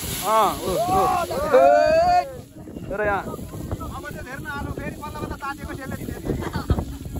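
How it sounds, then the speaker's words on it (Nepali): Gusty wind roars and buffets the microphone outdoors, a steady rushing noise under a man's speech. "हावा चाहिँ गजब चल्दो रहेछ"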